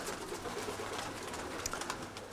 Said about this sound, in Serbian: od gospodina Nikole Sandulovića prve i prave golubove